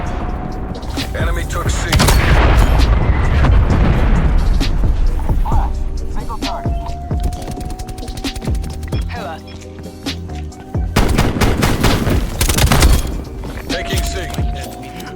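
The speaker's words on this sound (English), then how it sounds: "I'm calling in artillery." Artillery strike in Call of Duty: Black Ops Cold War, loud repeated booms and crackling gunfire rolling in waves, with radio-style game voice announcements over the barrage.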